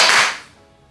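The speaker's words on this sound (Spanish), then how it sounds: "Hay un disparo que salió bien fuerte" A single sharp, loud pop from a toy gel blaster, its bright crack decaying quickly into a short fading tail.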